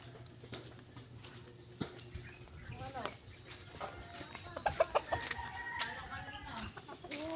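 Backyard chickens clucking and squawking in short irregular bursts at a small poultry farm, moderately close, with people talking over and between the calls.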